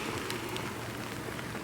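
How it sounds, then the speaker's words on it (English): Rain falls steadily outdoors at a Paralympic Games venue, a soft, even hiss of drops on surfaces with nothing else standing out. "It's raining, so we've all got our rain stuff out"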